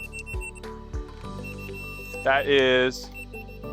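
A leveling tool beeps steadily, about half a second, during a check of a hand-dug footer trench at a ranch home addition, sounding close and clear between stretches of conversation.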